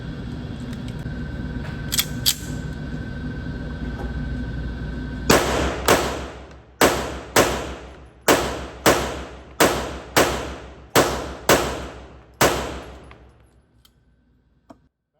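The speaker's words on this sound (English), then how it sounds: "Zeroed it in with some shots at the A zone there." Rapid pistol shots ring out at an outdoor shooting range while a red dot sight is zeroed at 15 yards: about ten sharp, loud cracks in a steady rhythm, each decaying quickly, after a few seconds of background noise and faint clicks.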